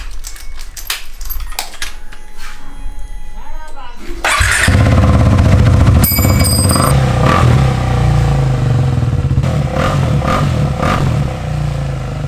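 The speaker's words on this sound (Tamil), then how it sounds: "ஸோ எக்ஸாஸ்ட் எல்லாம் வந்து சவுண்ட் எப்படி இருக்குன்னு சொல்லிட்டு கேட்போமா?" An adventure motorcycle with a newly fitted aftermarket exhaust idles and rumbles close by, starting quieter with clatter, then growing loud and steady from about four seconds with a deep throbbing note and occasional blips.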